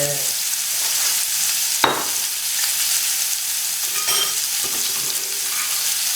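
Pork belly frying in oil in a pan, a constant loud sizzle with occasional scraping stirs and clinks of a utensil, close by and with no voices.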